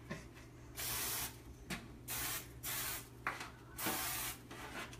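Cooking spray from an aerosol can hisses in several bursts of about half a second each, close and fairly loud, with short quiet gaps between them.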